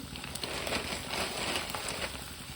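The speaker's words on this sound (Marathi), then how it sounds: "मी हा जो काही शिव मका चिवडा आहे तो इथं तळून घेते मी" Maize chivda frying in hot oil over a medium gas flame gives a dense, continuous crackle and sizzle, close and steady throughout with no pauses.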